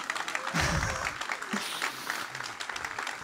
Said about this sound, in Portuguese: Querem bater palmas? Podem bater palmas, eu deixo-vos.